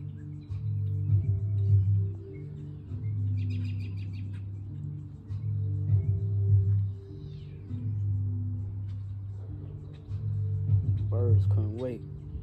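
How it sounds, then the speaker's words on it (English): Birds chirp outdoors on a chilly spring morning, with scattered short high tweets over a low steady engine-like hum and someone talking nearby. "Birds couldn't wait."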